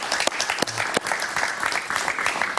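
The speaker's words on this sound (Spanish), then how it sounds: "Un aplauso para él, por favor." Studio audience applause greets a guest on a late-night talk show, dense clapping close and loud throughout, with a few louder individual claps standing out.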